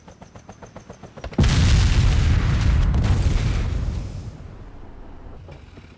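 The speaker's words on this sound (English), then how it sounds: "Explosions! Air1's going down" In the military video game Arma 2, a sudden heavy explosion booms out after a rhythmic pulsing thrum, a loud deep roar that slowly rumbles away over several seconds.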